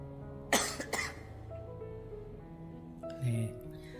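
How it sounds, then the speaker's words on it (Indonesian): A person gives two quick coughs close by, then a pause and a fainter throat-clearing sound, in a quiet room. "Penyakitnya batuk."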